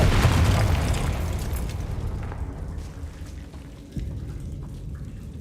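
In Hogwarts Legacy, a Confringo blasting spell detonates with a loud booming burst right away. A rumbling, crackling tail slowly fades, and a smaller pop follows near the end.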